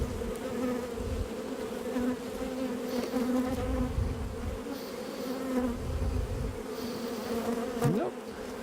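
Honey bees swarm around an open hive during a frame inspection, their dense, steady buzzing close and continuous throughout.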